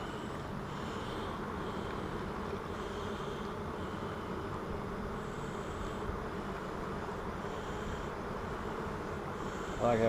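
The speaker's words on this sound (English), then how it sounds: "I like how all the bees just move out of the way." Honeybees humming steadily around their queen inside an apiary hive, a soft continuous drone of many wings, close and even throughout with no talk.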